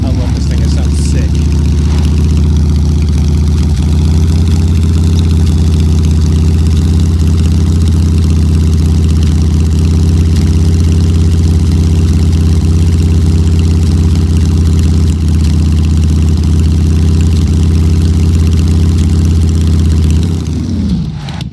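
A vehicle engine in the video game SCUM, a quick-accelerating machine, runs steadily at a loud, low constant drone for about twenty seconds before cutting off abruptly at the end.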